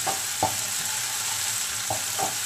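Spices sizzle steadily in hot oil in a pan, a constant close frying hiss with a few soft scrapes as they are stirred.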